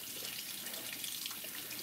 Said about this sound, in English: So what I'm going to do is I'm going to spray hot water on the inside of the cap.